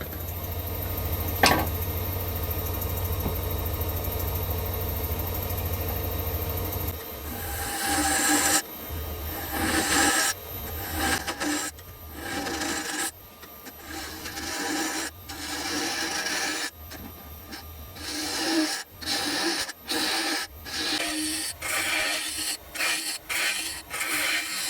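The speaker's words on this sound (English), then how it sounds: "I'm going to take the bulk of the material out with the spindle gouge" A spindle gouge hollows out the inside of a wooden lidded box on a lathe: a continuous rough whirring scrape at first, then a long run of short, rhythmic cutting strokes broken by brief pauses, loud and close.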